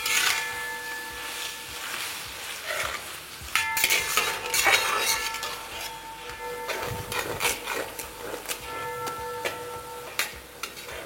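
Sliced onions fried and stirred in a pot for mutton curry: soft sizzling under intermittent metal clangs and scrapes of a spoon, close by and irregular, with no voices.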